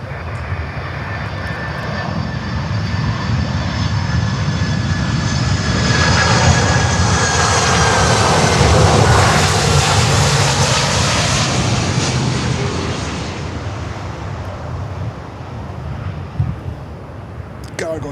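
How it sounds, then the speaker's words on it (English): Boeing 767 cargo jet at Miami airport, its engines roaring steadily and swelling louder as it passes close, then easing off, with wind buffeting the microphone throughout. "Cargo jet 767."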